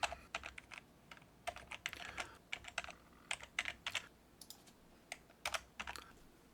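Rapid keystrokes on a computer keyboard in an AutoCAD drafting session, bursts of clicky taps with short pauses, close and fairly quiet with no talking.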